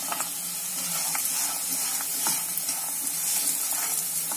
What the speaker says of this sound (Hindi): और बिल्कुल धीमी आंच पर इसे मेल्ट होने देंगे। लगातार मिलाते रहेंगे ताकि हमारा गुड़ जो है वो चिपक ना जाए।